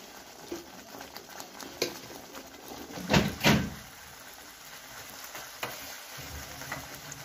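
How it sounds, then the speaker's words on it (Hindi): Fish curry masala stirred and cooking in a pan, a soft continuous sizzle with occasional scraping stirs and two louder clunks of the spoon against the pan midway. "इसको अच्छे से चलाकर इतना पकाएंगे कि मसाले पर तार आ जाए।"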